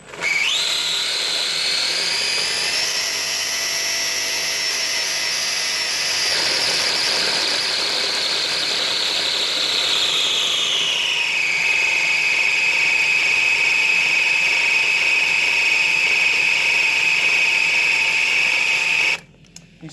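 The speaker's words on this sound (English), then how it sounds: "It's definitely shredding the tyres." A radio-controlled burnout car spins its tyres on the spot outside, a loud continuous high-pitched motor whine that climbs, holds, then drops to a steady lower pitch for about twenty seconds before cutting off abruptly.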